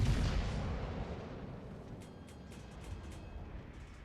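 A heavy naval gun salvo booms out at the start in World of Warships: Legends, its deep rumble decaying over several seconds, with faint crackles and distant hits trailing behind.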